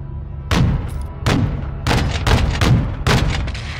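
Heavy booms from Call of Duty: Modern Warfare II as RPG rockets fire and explode, several loud, close thumping blasts in an uneven sequence over a constant low battle rumble, with no talk.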